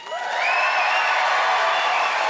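A studio crowd at a comedy debate show erupts in cheers, whoops and applause to pick James Mullinger as the winner, the roar swelling quickly and holding loud and dense throughout.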